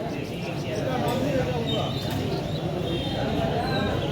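Pigeons coo softly within the steady hubbub of a busy pigeon market in Chuadanga district, the calls partly buried under crowd talk and nearby voices.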